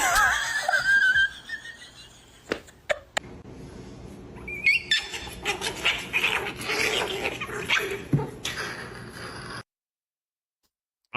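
A dog barks and whimpers in short, uneven bursts, loud and close, with yips and whines scattered through the middle, ending abruptly in near silence.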